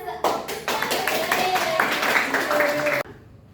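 A high school class clapping hands together in a classroom, a run of quick sharp claps in rhythm lasting about three seconds, with a voice heard alongside.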